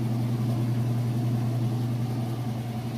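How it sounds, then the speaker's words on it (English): An Amana washing machine in its final spin cycle, running at full speed with a steady, smooth low hum and whir that holds constant throughout with no talk. "Okay, and we have moved into the final spin cycle."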